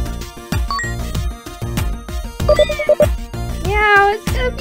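Cat-like meows rise over a rhythmic plucked musical backing in a video game with cat characters, several tonal calls close and clear.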